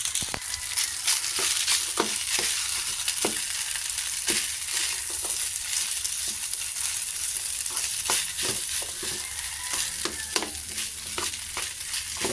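Leftover rice fries in a pan with green peas and fried egg, a steady loud sizzle broken by frequent scraping clicks of a spatula stirring and tossing throughout, with no talking.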